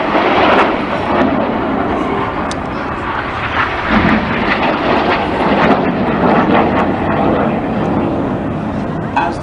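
Aerobatic display jets of the synchro pair at a seaside airshow roar past, a loud continuous broadband jet rumble that holds steady throughout with slight swells, turning away at high G.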